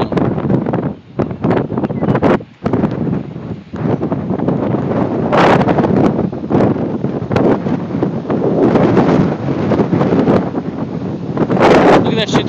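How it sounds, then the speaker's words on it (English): Strong, gusty wind roars and buffets the microphone continuously, with loud surges and brief lulls as a spiralling storm passes overhead; excited voices speak intermittently under the rushing noise. "the wind is quick"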